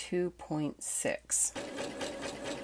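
A person speaks briefly, then a sewing machine running a zigzag stitch on fabric for an art quilt figure starts, a soft, rapid rhythmic whir heard close by for the last second or so.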